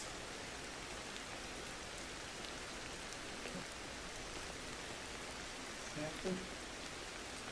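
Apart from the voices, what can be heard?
rain in the video game Ancestors: The Humankind Odyssey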